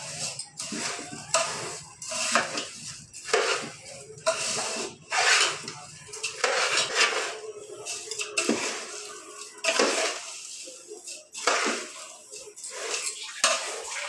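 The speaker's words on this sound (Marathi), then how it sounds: "आता मिक्स करत आहे आमची आई व्यवस्थित सगळं" Poha chivda seasoned with cumin, mustard seed and asafoetida, tossed and mixed in a pan, with repeated scraping and clinking spoon strokes against metal, close and fairly loud, in an irregular rhythm.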